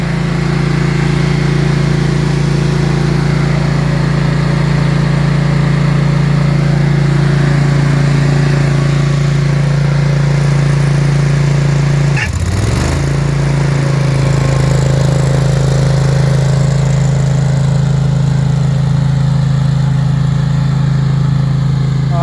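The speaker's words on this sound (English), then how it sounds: "So it's mowing a little bit, just nipping the top off." A remote-control lawn mower on standard-size wheels drones steadily and loudly while trimming the tops off grass, its engine note dipping briefly midway before settling back into an even hum.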